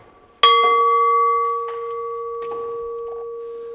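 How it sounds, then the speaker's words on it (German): A single bell is struck once in an abandoned coal mine, giving a sharp metallic clang followed by a clear, sustained ringing tone that slowly fades, with faint scattered knocks behind it. "Nee, das ist die Glocke"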